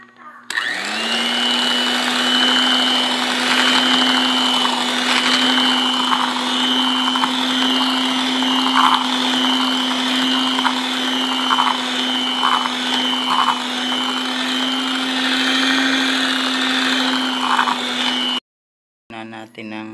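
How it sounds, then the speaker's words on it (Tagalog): An electric mixer whirs steadily at close range, beating homemade cookies and cream ice cream, a constant motor drone with faint scraping ticks before it cuts off abruptly near the end. "Unti-unti mimixerin ulit yan."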